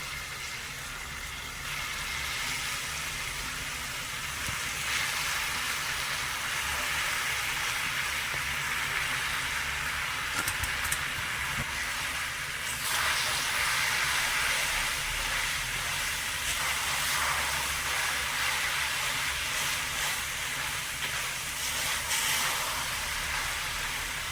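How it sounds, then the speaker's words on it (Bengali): Grated boiled raw papaya going into hot sugar caramel, giving a steady, broad hiss of sizzling that carries on continuously, with faint scraping and movement mixed in, no talk. "এবার আমি গ্রেট করে রাখা যে পেঁপেটা সেদ্ধ করে রেখেছি পেঁপেটা দিয়ে দিচ্ছি"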